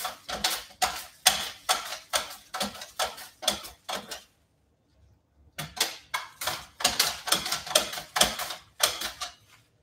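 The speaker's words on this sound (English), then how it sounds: "So we just got a mandolin here. Um, this will help us cut real even thin slices." A kitchen mandoline slices vegetables for a garden salad in quick rhythmic strokes, each pass giving a sharp scraping snap, with a pause midway before the steady slicing resumes.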